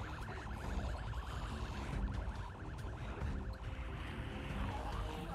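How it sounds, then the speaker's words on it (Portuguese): An alarm siren wails in the Project Zomboid video game, a steady, rapidly cycling electronic warble heard continuously, faint under a dense, noisy background of game sound. "Eu setei o alarme, joguei no chão."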